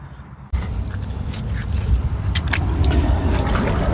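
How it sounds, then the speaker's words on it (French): Bare feet step into a small, cold forest stream at night, with splashing and trickling water that starts abruptly and continues, close and fairly loud, with no talk. "Là, je vais aller mettre les pieds dedans"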